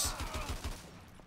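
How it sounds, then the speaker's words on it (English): Several quick, evenly spaced booming blasts from an AA-12 automatic shotgun in Call of Duty: Modern Warfare 2, close and loud at first, then fading into a dull tail. "Ooh, the AA-12. Sure. Sorry! Shotgun go burr."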